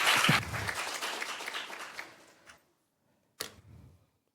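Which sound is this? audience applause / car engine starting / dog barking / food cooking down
audience applause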